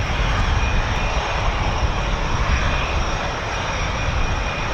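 F-18 Hornet jets passing over RAF Waddington, a loud, continuous engine roar that fills the whole stretch without a break and stays close and powerful.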